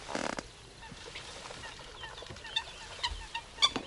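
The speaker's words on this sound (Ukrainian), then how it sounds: "А качки дають, мисливця нема на вас." Honking duck calls, a few loud bursts scattered over a noisy outdoor background at a fishing pond, with no talking.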